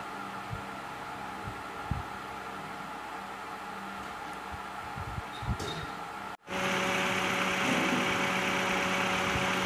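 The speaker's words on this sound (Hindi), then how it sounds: "गाड़ी अभी स्टार्ट है" A Hyundai Santro with low compression idles steadily, a continuous mechanical hum that jumps abruptly louder and brighter partway through, with no voices.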